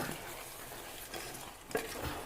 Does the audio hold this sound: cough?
no